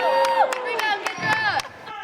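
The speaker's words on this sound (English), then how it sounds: "it's not every Granny player who has a cheering squad on the sidelines." A cheering squad on the sidelines of a granny basketball game in Mulvane, Kansas: excited whoops and shouts with scattered claps over crowd babble, in short lively bursts.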